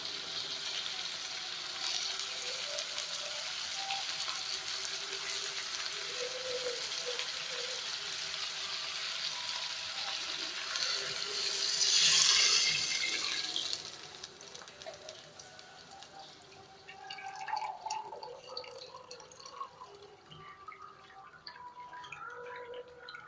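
Water pours into a pot of basmati rice for biryani, a gushing, bubbling flow that swells for a few seconds and then gives way to quieter kitchen sounds while someone talks.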